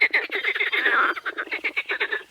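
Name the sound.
toads croaking at a lake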